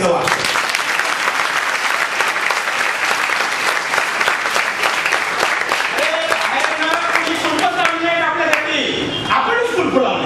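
Audience applause at a live speech fills the space with dense, loud, continuous clapping, and a voice rises over the clapping in its latter half.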